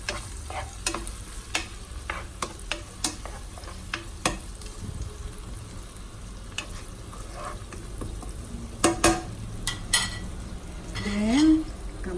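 Onions sautéing in oil in a pan for Filipino mung bean stew, a soft steady sizzle with a spoon tapping and scraping the pan in scattered strokes, close and moderate.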